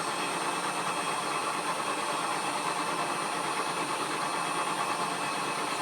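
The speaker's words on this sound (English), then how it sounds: "5 thou pass back again, fine milling" Milling machine taking a fine five-thou finishing pass along the edges of a workpiece held in a vise, a steady continuous mechanical hum with faint whirring texture, even and unbroken throughout.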